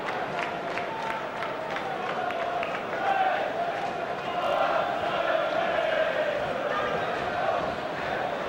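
West Ham United football fans in a stadium crowd during a match against Everton, a steady, broad roar of cheering and chanting that swells slightly midway, heard at a distance with no clear speech over it.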